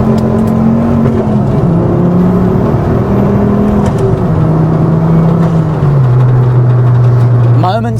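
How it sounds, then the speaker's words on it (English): Turbocharged Ford Focus ST225 with a loud exhaust pulling hard in second gear, a steady rising engine drone and turbo whir filling the cabin, ending with a brief shift. "Let's give it a bit of a second gear pull here."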